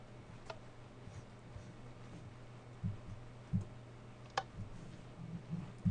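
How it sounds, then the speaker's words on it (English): A table in the Minecraft video game gives off faint, irregular clicks, a handful of soft ticks spread over a quiet, low hum. "so it's the table making clicking"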